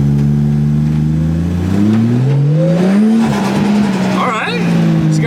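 A Mitsubishi Lancer Evo 5 accelerates hard, its engine note climbing steadily through the revs with a brief shift dip, loud and close from inside, with voices and a faint squeal toward the end.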